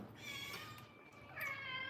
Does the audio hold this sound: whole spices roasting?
no